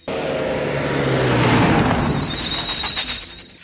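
A car revving and pulling away in a film scene, a loud engine roar with a rising tone that sweeps past close by and fades, backed by rushing road noise.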